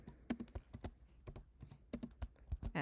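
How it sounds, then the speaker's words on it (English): Quick bursts of keyboard typing on a computer, entering sports team names and scores for a bar graph; crisp, close key clicks in uneven clusters with short pauses, no talking. "So we're going to type in"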